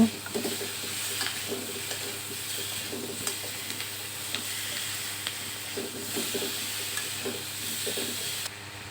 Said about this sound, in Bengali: উপর দিয়ে পরিমাণ মতো লবণ আর হলুদ দিয়ে দিলাম দিয়ে আমি সুন্দরভাবে কষিয়ে নেব